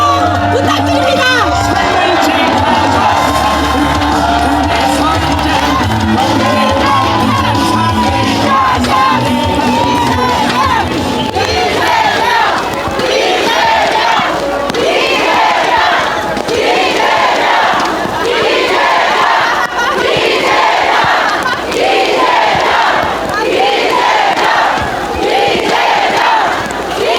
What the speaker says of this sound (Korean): 여러분 다시 한번 큰 박수와 함성 부탁드립니다.